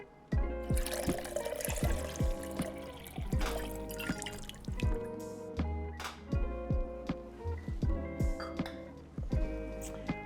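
Simple syrup poured and measured for a rye whiskey sour at a bar, giving a close run of splashing drips and trickles, with short liquid plinks and small glass knocks repeating in an uneven rhythm.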